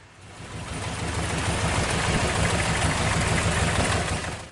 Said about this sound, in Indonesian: setelah penggantian busi baru pun suara mesin masih pincang